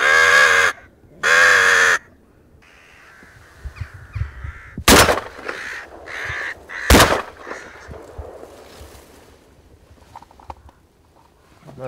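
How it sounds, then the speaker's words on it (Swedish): Crows cawing during a crow hunt in Österlen, Sweden, with two loud drawn-out caws at the start, followed by quieter field ambience, faint bird calls and two sharp, loud gunshot bangs. "Det är en kråka."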